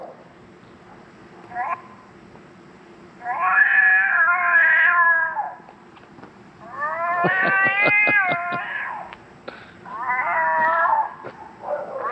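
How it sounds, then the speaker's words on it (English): Electronic bobcat call played from a Foxpro Patriot game caller outdoors, a series of loud, harmonic yowling cat-like screams in three or four bursts with short gaps, over a low steady background hum. "Let's go with a bobcat."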